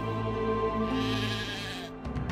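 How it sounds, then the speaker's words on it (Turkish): A sheep bleats in the Titan Quest video game, a drawn-out wavering call over steady game music, followed by brief clicks and thumps as it ends. "Koyun bulduk."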